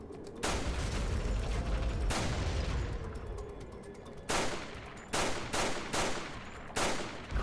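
Pistol shots ring out in Resident Evil 4, several single sharp cracks spaced apart with trailing echo between them, loud and close, no talking.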